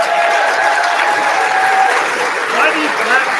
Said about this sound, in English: Why do you clap for a loser?